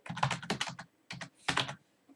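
Computer keyboard typing in quick clustered bursts of key clicks, close and crisp, with a short pause between two runs of keystrokes.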